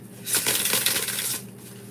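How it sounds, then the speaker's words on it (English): Tarot cards are shuffled close by, a single dense papery riffle lasting about a second, with no voice over it. "Let me give it a nice good shuffle again."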